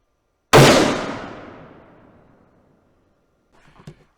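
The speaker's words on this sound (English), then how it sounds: "So let's get shooting." A single loud .44 Magnum revolver gunshot, a sharp crack with a long fading echo, followed by a faint clatter.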